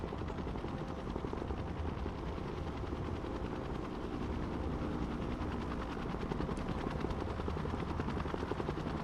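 An AH-1 attack helicopter flies in the war game Broken Arrow during a Baltiysk invasion scenario, its rotor throbbing loud and continuous while bursts of gunfire rattle underneath.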